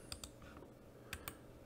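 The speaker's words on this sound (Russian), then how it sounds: "вбиваем сюда и нажимаем просто вот на клавиатуре." A computer keyboard is tapped at a desk while commands are entered into a flight-controller configurator's CLI: a few sharp, close clicks come in two quick pairs separated by a quiet pause, with no voices.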